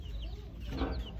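Chickens cluck steadily and close by in a Rural King farm store in Spring Hill, Florida, with overlapping soft calls and a busy indoor background.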